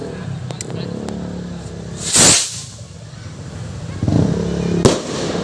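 An Eaglet kwitis rocket from Eagle Fireworks launching at a fiesta beside a church, a sharp rising whoosh and hiss in the middle, then a second burst, over crowd noise and voices.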